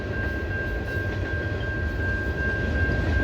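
CN freight train with a K5 horn passing, a steady, loud rumbling roar of rolling rail cars with a sustained high tone running through it, continuous and unbroken for a few seconds.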